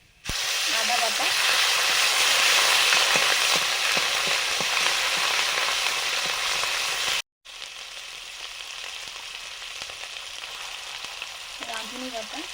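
Ginger paste hitting hot oil with a loud, dense sizzle that runs for several seconds, then drops to a quieter, steady frying hiss after a brief cut.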